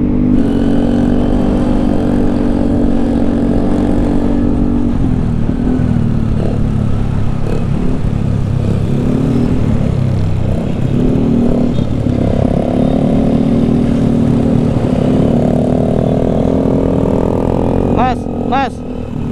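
A motorcycle engine runs steadily close by, a rumbling idle that wavers slightly in pitch, while people talk over it throughout.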